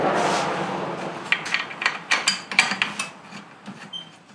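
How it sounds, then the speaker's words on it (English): Repeated ratcheting clicks from a wrench tightening car brake caliper mounting bolts on a front axle job, about ten quick rhythmic strokes, close and fairly loud, no talking. "We're going to stick those in with a dab of Loctite and tighten them up to 44 foot-pounds."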